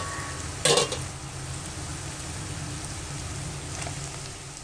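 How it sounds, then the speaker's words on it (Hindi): Chicken cubes are stirred with onions in a hot pan for Schezwan fried rice, with a steady sizzle of frying, one sharp scraping stir near the start and a softer one later. "चिकन क्यूब में मैंने डाल दिया है, अब मिक्स कर दूंगी मैं प्याज के साथ"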